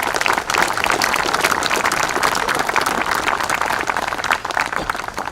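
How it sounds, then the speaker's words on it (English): Crowd at a Memorial Day ceremony applauding the commander of American Legion Post 320, sustained close clapping with no letup. "please give a warm round of applause to Commander Richard Pastor"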